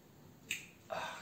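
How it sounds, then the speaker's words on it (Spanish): New joints on a vintage Playmobil fire truck figure clicking, two crisp separate snaps close by in a quiet room. "me encanta cuando están los clics nuevos."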